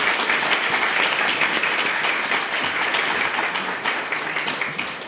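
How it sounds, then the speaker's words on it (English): Audience applause fills a hall at a business gathering in Port Elizabeth, steady and loud, dense clapping sustained throughout with no talk over it. "Let's please give him a warm welcome and a round of applause."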